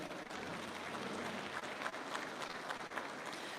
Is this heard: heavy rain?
no